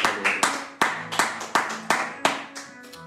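A church congregation claps in praise of the Lord during a service: a steady, rhythmic run of about a dozen sharp, close hand claps in quick succession.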